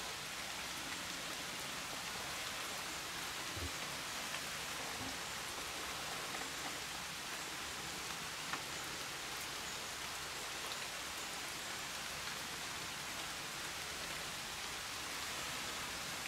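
Rain falling steadily in a mountain forest, a dense, even hiss of drops on leaves and ground that continues unbroken throughout, with no voices.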